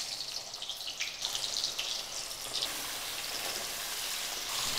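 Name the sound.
shaur and potatoes frying in hot oil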